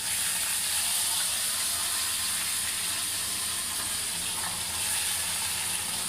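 Green chilli frying in a pan, a steady, even sizzling hiss that holds constant throughout with no pauses and no voices.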